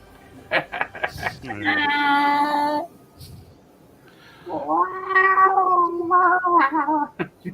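A person imitates a cat caterwauling, with short yowls followed by two long, drawn-out wavering wails, loud and close with quiet gaps between.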